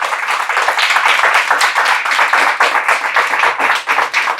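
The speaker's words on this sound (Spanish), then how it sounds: "Denle un aplauso al Señor, amado hermano." Loud, close clapping from a church congregation giving an ovation during a Spanish-language service, dense rapid hand claps throughout with no break.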